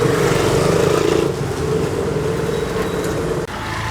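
Cars whipping past in busy Phnom Penh traffic make a loud, continuous roar of engines and tyres that stays steady throughout, with a brief dip just before the end.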